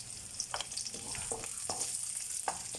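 Onions fry gently in a pan for chicken à la king, giving a quiet, even sizzle broken by a few soft stirring taps, with no talking.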